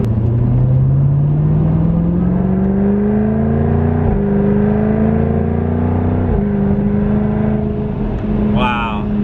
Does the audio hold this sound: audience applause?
no